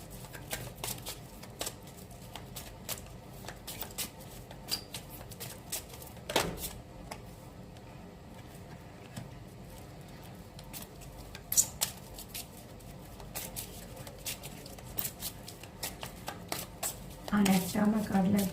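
Tarot cards being handled and shuffled during a relationship reading, a string of soft papery ticks and flutters with a denser riffle near the end, heard up close while someone speaks quietly.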